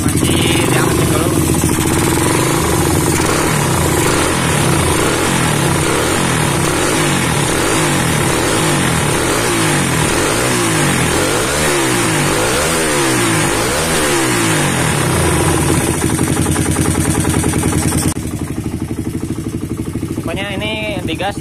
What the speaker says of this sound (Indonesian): Oke, saya panasin dulu deh biar kelihatan ntar gimana warna businya.